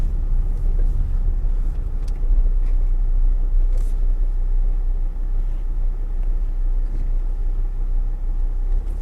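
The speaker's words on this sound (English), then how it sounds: "Car reversing into slot." A car reverses into a parking slot on a 20 mph street between Whitstable and Herne Bay, heard from inside a moving vehicle as a steady low engine and road rumble that runs throughout without pause.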